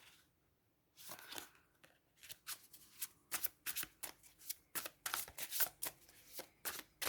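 Tarot cards riffled and drawn in a rapid run of crisp, papery flicks and snaps, close and fairly loud, broken by brief pauses with no talking.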